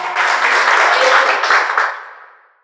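A church congregation breaks into loud, dense applause that holds steady for about two seconds and then fades away, with no talking over it.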